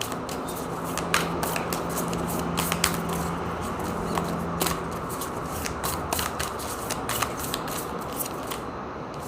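Tarot cards being shuffled and drawn during a reading, a steady papery riffle with crisp flicks and snaps of individual cards landing, close and fairly quiet, with no talk.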